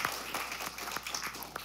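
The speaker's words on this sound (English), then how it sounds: "Keep clapping." A church audience claps for a man walking up to speak, a steady patter of applause from a crowd, fairly faint and distant throughout.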